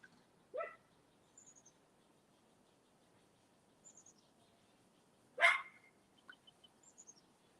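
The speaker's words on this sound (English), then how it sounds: "The sharpness of the bark gets to me" A dog gives two sharp barks, one early and a louder one a few seconds later. Both sound moderately distant in an otherwise quiet room, with faint bird-like chirps scattered between them.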